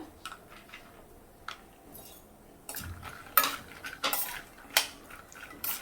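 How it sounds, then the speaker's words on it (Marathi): A utensil stirs almonds in ghee in a pan for methi dink laddoos, with soft scraping at first, then sharper metallic clinks and scrapes growing louder in the second half, close by, no voices. "तूप घालते आधी बदाम थोडे परतते"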